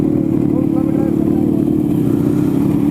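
A Rajdoot 350 motorcycle engine runs steadily at close range with a deep, even low-pitched thrum, loud and continuous throughout.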